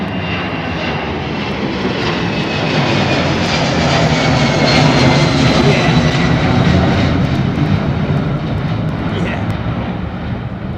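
Jet airliner engines at London Heathrow Airport, older smoky engines, roaring loud and steady across the whole stretch with broadband rumble and hiss, swelling slightly midway.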